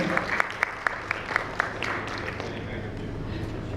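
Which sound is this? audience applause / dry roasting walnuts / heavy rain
audience applause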